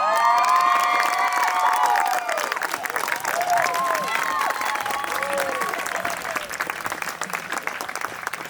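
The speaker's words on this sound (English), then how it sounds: "Please cheer and clap and make as much noise as you can as we congratulate our newlyweds" Wedding guests cheer and clap for the newlyweds, with steady applause and excited shouts and whoops from a crowd filling the room, loud throughout and easing slightly toward the end.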